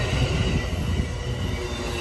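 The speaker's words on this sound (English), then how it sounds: "they got that train arriving here at the Emeryville station" Amtrak Capitol Corridor Train #543 rolls into Emeryville station with a steady loud rumble and squealing wheels, heard up close and alone.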